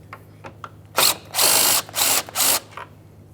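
A hand ratchet zips in four quick, loud bursts, one short and three longer, while backing out a headlight assembly bolt on a 2011-2021 Jeep Grand Cherokee, with faint ticks in between and no talking.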